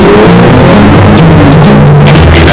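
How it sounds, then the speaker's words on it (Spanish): An Aston Martin engine revs with a loud, harsh roar that drones without pause for a couple of seconds, close up, its rising notes buried in a dense wash of engine noise, with no voices. "El Aston Martin es sinónimo de James Bond"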